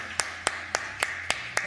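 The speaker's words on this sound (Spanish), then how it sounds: "Un aplauso." Six evenly spaced single claps ring out at a steady rhythm, close and crisp, one hand clap roughly every quarter second, with a faint hum beneath, as a guest is welcomed on a Patagonian television program.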